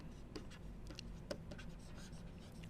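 Pen or chalk strokes scratch and tap in short irregular bursts as notes on satellite orbital parameters are written during a lecture, close and fairly quiet with no speech.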